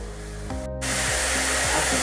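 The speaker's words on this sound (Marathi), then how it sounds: "तर तोपर्यंत मी एक टॉमॅटोची पेस्ट करून घेते." A mixer grinder blends tomatoes into paste: a brief pause, then a loud, steady whirring roar as the motor spins up, with its tone shifting slightly.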